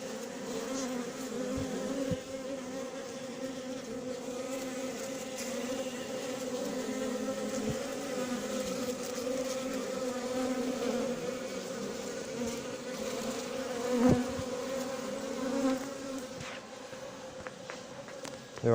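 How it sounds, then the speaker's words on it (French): A dense swarm of bees crowded onto sugar, buzzing steadily and loudly up close for the whole stretch with no talk over it. "incroyable toutes ces abeilles agglutinées"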